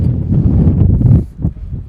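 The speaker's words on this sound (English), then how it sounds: "Big, nice gust of wind there." A strong gust of wind at an outdoor baseball game between Hastings and Elsik buffets the microphone, a loud low rumbling roar that drops away after about a second.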